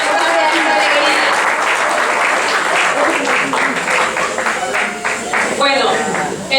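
Sustained, loud applause from an audience at an Afro-expression cultural festival event, dense clapping filling the whole stretch with voices mixed in.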